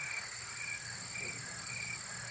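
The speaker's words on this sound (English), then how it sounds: "Rick, make sure you get some crickets in there." Crickets chirp in a steady, continuous chorus of high, shrill pulsing trills, fairly quiet and heard alone.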